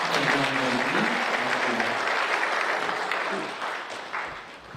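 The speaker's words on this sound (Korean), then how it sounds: "다시 한번 교수님께 큰 박수를 부탁드리겠습니다." An audience at a creative-economy forum applauds a professor after his keynote presentation, loud sustained clapping from many people with some voices underneath, tapering slightly toward the end.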